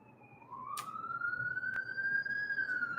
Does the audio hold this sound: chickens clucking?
no